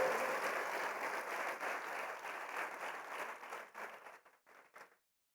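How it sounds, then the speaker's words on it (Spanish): A church congregation at a Spanish-language service applauds in a steady, moderately loud wave that thins into a few scattered claps and then stops. "Le vamos a dar un aplauso al Espíritu del Señor esta mañana."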